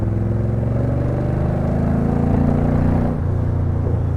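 A Crendon Cobra replica with a torquey engine and four-speed gearbox pulls hard, a loud, deep, throbbing engine rumble rising steadily in pitch before easing off sharply near the end.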